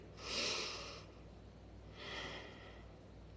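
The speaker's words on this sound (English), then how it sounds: "Breathe." Two slow, deep breaths close to the microphone during a guided healing session, a long airy inhale followed by a softer breath a second later, then quiet.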